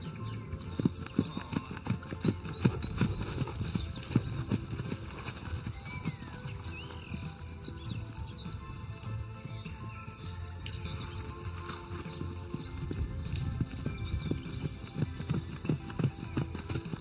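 Hooves clip-clop steadily on soft pasture ground as Friesian horses trot about, with an occasional whinny and birds chirping in the background.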